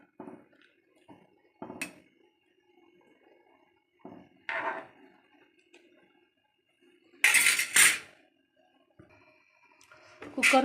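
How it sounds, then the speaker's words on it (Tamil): A metal pressure cooker lid is set on and locked closed, giving a few sharp clanks and scrapes scattered among quiet gaps, with someone speaking between them. "குக்கர் மூடியை போட்டு மூடிக்கலாம்."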